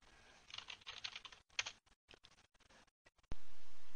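Typing on a computer keyboard in bursts, a quick patter of close key clicks with brief pauses between runs, then an abrupt loud steady noise that cuts in near the end.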